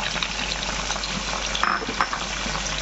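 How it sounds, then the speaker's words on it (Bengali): Onion paste frying in a pan for chicken pulao gives a steady, close sizzle and bubbling, with a couple of brief stirring scrapes near the end and no voices. "পেঁয়াজ বাটা দিয়েও আমি আবার 3 মিনিট ভালো করে কষে নেব"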